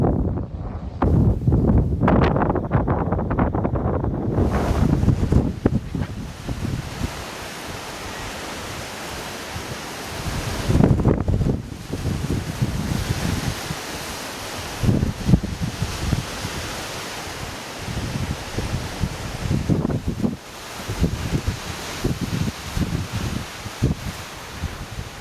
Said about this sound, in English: it is way too windy to film